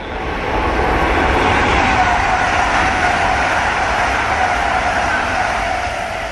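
KCIC high-speed EMU train running fast on a climbing and descending line, a loud sustained roar with a smooth, rising whine that stays steady throughout.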